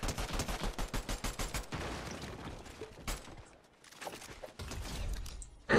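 Rapid gunfire in the video game Fortnite, a fast run of evenly spaced shots followed by scattered single reports and mechanical clicks, loud and close with no talking.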